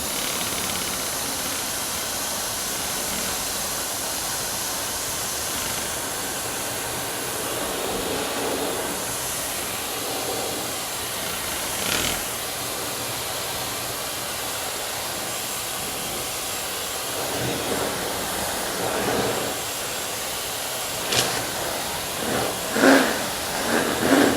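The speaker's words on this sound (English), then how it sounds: "I'm going to use the hairdryer really quickly just to dry this." A hair dryer blows over a watercolour painting with a steady, broad whoosh throughout, its airflow shifting slightly, with a few soft knocks near the end.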